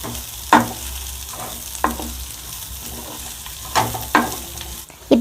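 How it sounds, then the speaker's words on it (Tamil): Sliced onions fry in a pan on the way to golden brown, a low steady sizzle broken by a few spoon scrapes and clanks against the pan as they are stirred, close and with no voice. "ஆனியனை கோல்டன் ப்ரௌனிஷ் வர வரை இதை மிக்ஸ் பண்ணிக்கிட்டே இருக்கணும்"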